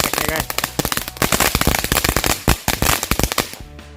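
Rapid string of firecrackers bursting in loud, sharp cracks, dense and irregular, set off for an Indonesian Independence Day celebration in August.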